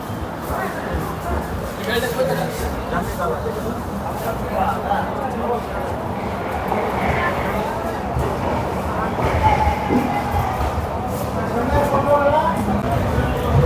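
Steady rumble and rattle of a moving North East Express passenger train heard from inside a crowded general coach, continuous and fairly loud, with people talking throughout.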